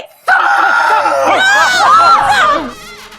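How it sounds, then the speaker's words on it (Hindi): Several people in a drama screaming and wailing as if in pain, loud, overlapping high cries that rise and fall for about two seconds before fading out. "वो दर्द के मारे इतना चीखते"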